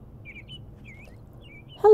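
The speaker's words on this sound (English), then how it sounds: "Oh, I love the sound of birds." Bird chirps in a video game, a handful of faint high tweets scattered over a low ambient bed before an abrupt louder sound at the end.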